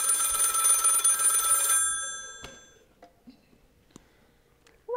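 A telephone bell rings loudly for under two seconds, then cuts off, leaving a few faint clicks and small noises in a quiet room.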